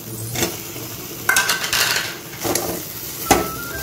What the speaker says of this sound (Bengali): আলুটা দিয়েও ভালো করে কষিয়ে নেব